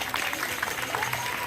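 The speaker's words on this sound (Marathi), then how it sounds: "तुमच्या सगळ्यांसाठी जोरदार टाळ्या झाल्याच पाहिजे" An audience of women at a local Mangalagaur celebration claps in a steady, dense round of applause, with some crowd voices mixed in.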